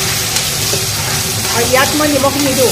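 Elephant apple frying with onion and turmeric in hot oil, a constant close sizzle with stirring noises, while someone talks over the cooking.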